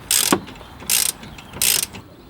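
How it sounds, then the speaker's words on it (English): A ratchet wrench clicks on a 13mm caliper bolt while refitting a VW Golf brake caliper with new discs and pads, in three short, close bursts of rapid metallic clicking separated by brief pauses. "I'm just tightening up the 13mm bolt"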